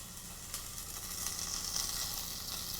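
Hot cherry peppers, cut into thin julienne strips, sizzle steadily in a pan as they are sautéed, a continuous close, bright frying hiss with small crackles and no talking.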